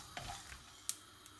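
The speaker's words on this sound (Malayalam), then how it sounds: "പെരിഞ്ജീരകം ഇട്ടിട്ടൊന്ന് ഇളക്കുക." Fennel seeds being stirred in a dry pan give a faint, brief rustle and sizzle, then one sharp clink of the utensil against the pan and a softer tap afterward, close by and quiet.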